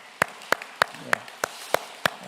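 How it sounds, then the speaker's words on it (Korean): A church congregation at an Incheon Liberation Day joint worship service claps in a crisp, evenly spaced rhythm of about seven sharp, close claps over a short span. "귀한 말씀 전해주신 우리 총회 하나님께 감사 박수 크게 올려드리겠습니다"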